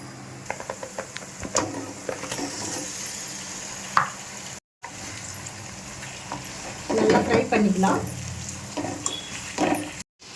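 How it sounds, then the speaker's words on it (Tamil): Chicken pieces fry over high flame with green chillies for a curd chicken dish, making a close, continuous sizzle with spatula stirring and scraping that swells louder in the second half, briefly cut off once. "நல்லா ஃப்ரை பண்ணிக்கலாம்"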